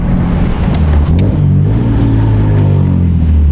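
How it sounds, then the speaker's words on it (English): A widebody BMW E46 330Ci with a short shifter revving during a downshift, a loud, close engine rumble with a brief rise in revs and no talk. "I'm gonna have to get used to downshifting like that."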